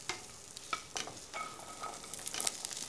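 Chorizo, chicken and cannellini beans fry and get stirred in a pan, with soft sizzling and scraping strokes of a utensil in short irregular bursts, close and fairly quiet with no talking.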